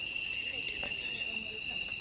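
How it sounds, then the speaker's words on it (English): Crickets chirping at night in Costa Rica, a steady high-pitched insect trill running continuously throughout, moderately loud against faint background noise. "You know crickets for sure, yeah?"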